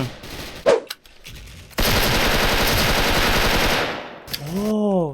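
A GOLD M4A1 rifle in the video game Special Force fires a loud, continuous automatic burst lasting over two seconds, preceded by a single sharp shot and followed by short whooshing in-game sounds.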